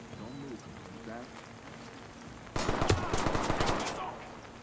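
Rapid gunfire from the tactical shooter Ready or Not bursts in partway through as a loud, fast crackle of shots, following a quieter stretch with faint voices and game sounds.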